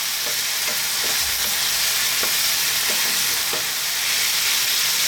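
Chicken fried rice cooks in a hot pan with a loud, steady sizzling hiss, broken by a few soft scraping stirs at regular intervals; no voices are heard.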